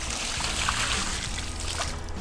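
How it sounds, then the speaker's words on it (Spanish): Water is tipped out of an orchid pot after watering, a continuous trickling, splashing pour that lasts a couple of seconds with no talking. "Nos vamos a hacer cargo de quitar toda esta agua, la vamos a tirar"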